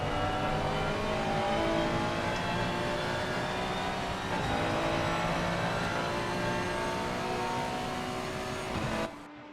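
A Ferrari 296 race car at Brands Hatch in a racing sim, heard from behind over the rear wing: a loud, steady engine drone holding high revs through a turn, cut off abruptly near the end.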